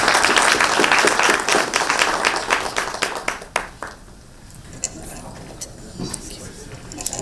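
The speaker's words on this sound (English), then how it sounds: "please join me to make big applause to our distinguished speakers" Audience applause at an India–Japan business summit in Bangalore, a dense burst of clapping that thins into scattered claps and fades, with speech underneath.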